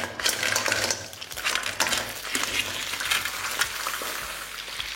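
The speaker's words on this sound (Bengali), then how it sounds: "এরপর যখনই দেখবেন তেলটা ভালো করে গরম হয়ে গেছে কাঁকড়াগুলোকে আমি এখানে দিয়ে দিচ্ছি" Crabs go into hot mustard oil in a pan, giving a steady bright sizzle with scattered clatters and scraping of utensils against the pan, close and fairly loud throughout.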